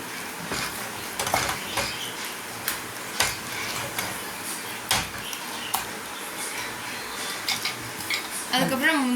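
Bread halwa cooked in ghee is stirred steadily in a pan, a spoon scraping and knocking the metal in repeated close strokes over a soft sizzle.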